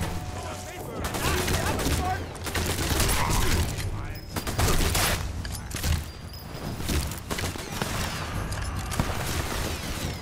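Heavy gunfire in Sniper Elite 4 at a viaduct with a big gun, rolling in loud, overlapping volleys and booms that fill the whole stretch, with a voice speaking over the shooting.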